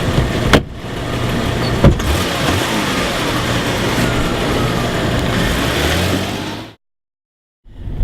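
A car engine revs loudly and accelerates hard for several seconds, a couple of sharp clunks near the start, then cuts abruptly to silence before the sound briefly returns.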